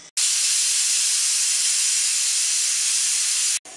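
A kitchen pressure cooker cooking peas pulao on a gas stove lets out one sustained, loud, close steam whistle, a hissing blast that starts abruptly and cuts off after about three and a half seconds.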